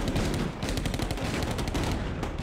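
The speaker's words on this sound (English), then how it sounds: "Iraqi fighters open up with punishing fire from all directions." Iraqi fighters pour out dense, continuous gunfire in an urban battle, a rapid barrage of overlapping shots at close range.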